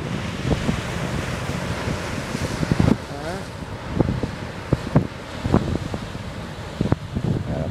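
Strong wind buffeting the microphone at the beach at Étang Salé, Réunion, with surf washing in behind and occasional gusty thumps, loud and close, with some voices in the background.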